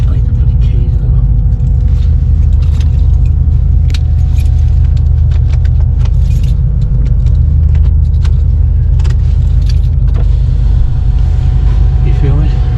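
Keys jangle in a series of sharp metallic clinks as they are put into a box inside a motorhome boarding a ferry from Mull to Ardnamurchan, heard over a loud, steady engine rumble with voices nearby.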